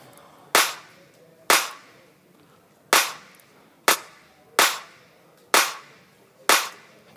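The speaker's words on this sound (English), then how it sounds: "That's a clap loop." A clap loop sample plays during electronic dance music production, seven sharp, bright claps with short reverb tails at an uneven, syncopated rhythm, clean and alone.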